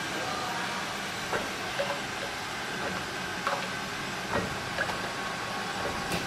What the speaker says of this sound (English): tube filling and sealing machine from Guangzhou HMD Cosmetics Machinery